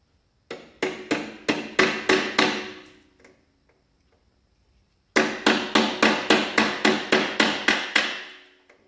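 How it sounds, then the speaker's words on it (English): A small hammer strikes metal while fitting a part back onto an old Yard Man rototiller: a quick series of about eight sharp, ringing blows, a pause, then another run of about ten, all close and loud. "fun little hammer."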